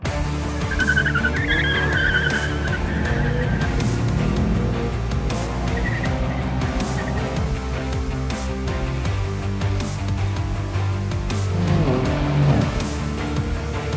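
A 2019 BMW M3 CS and a Mercedes-AMG C63 S launch in a drag race, engines roaring loud and sustained with tire squeal and skidding, one revving surge near the end, and no talk.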